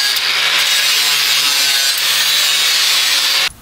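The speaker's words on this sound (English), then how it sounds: "take the surface rust off this with the flap disc that we talked about" An abrasive flap disc on an angle grinder scours surface rust off sheet metal down to bare steel, a loud, close, continuous rasping grind that stops abruptly near the end.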